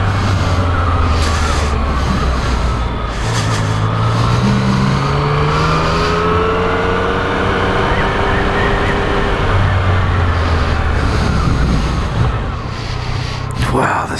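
A 2014 Yamaha FZ-09 motorcycle engine pulls hard on a test ride, its loud, steady drone rising and falling in pitch as it accelerates through gears, with wind rush throughout and a rider talking over it.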